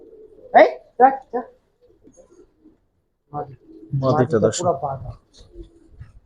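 Pigeons coo in soft, rounded bursts close by at a market, a few short calls early and then a longer run of throaty cooing, with a voice speaking between them.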